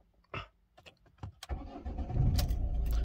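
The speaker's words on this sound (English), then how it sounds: "When I start the car" A Ford Focus Mk2 diesel engine with a blocked particulate filter cranks and catches after a few soft clicks, then settles into a loud, steady rumble that fills the end.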